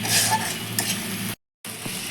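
Spice paste with turmeric and salt is stir-fried in a pan, giving a close, steady sizzle with stirring scrapes that cuts out briefly and then resumes.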